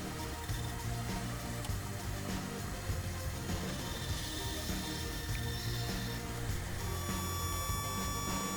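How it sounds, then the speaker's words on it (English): A power tool cuts the top two fingers off the side piece of a wooden finger-jointed box, giving a steady, loud, broadband whine and rasp that holds for the whole stretch without a break and without any talk. "Here I am cutting the top two fingers off the side piece."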